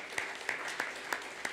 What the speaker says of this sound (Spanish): ¿Le puedes dar un aplauso a tu Señor?